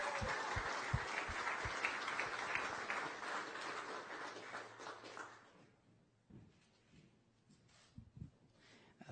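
Boxing press conference crowd in New York applauds WBA super bantamweight champion Daniel Roman, moderately loud clapping that tapers off after about six seconds, followed by a few scattered claps and shuffling.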